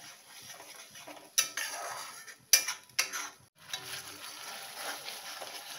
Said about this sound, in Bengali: মিক্সার জারটা ধুয়ে আমি একটু জলও দিয়ে দেবো।